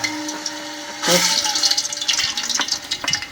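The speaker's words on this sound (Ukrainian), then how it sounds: "Смажиться." Sizzling and crackling of meat frying in small portions in a pan for Georgian ojakhuri, a steady hiss with bursts of spattering and a few clinks, close by, with no voices.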